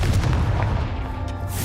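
A Confringo fire spell blasts out in Hogwarts Legacy gameplay, a loud, dense booming burst with rumbling low end that carries on steadily for under two seconds.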